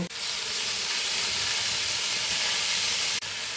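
Okra frying in a pan over high gas gives a steady, loud sizzle and hiss from start to finish, with a brief dip near the end and no voices.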